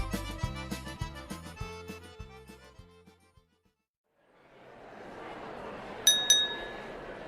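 Glasses clinking for a toast: after a short plucked musical phrase and a pause, a soft crowd murmur rises, then two bright glass clinks ring out close together near the end.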